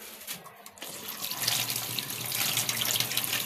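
Tap water runs into a basin as raw chicken pieces are rinsed, starting as a brief trickle and then swelling into a steady, close splashing stream.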